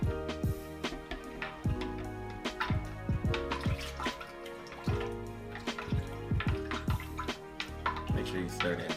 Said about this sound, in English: And we're gonna give that a stir.